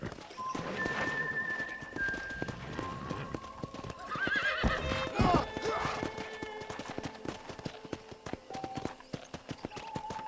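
A horse whinnies amid a steady clip-clop of hooves in Red Dead Redemption, with scattered game-like tones and a voice speaking in the background.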